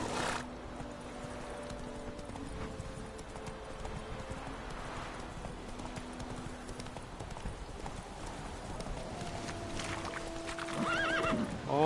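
Game horse hooves clip-clop in a steady galloping rhythm, with repeated whinnying neighs and a loud neigh near the end.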